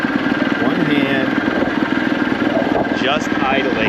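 Motorcycle engine idling with no throttle, a steady low chugging rumble throughout, close and loud, while someone talks over it.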